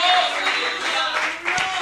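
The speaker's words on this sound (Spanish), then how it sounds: "Den un aplauso al Señor." A church congregation claps during a Sunday service, a soft, diffuse patter of many hands with voices mixed in, brief and fairly even.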